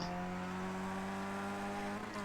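A Skip Barber race car at Virginia International Raceway pulls at full throttle, its engine holding a steady, loud, buzzing drone from the cockpit with the pitch barely shifting.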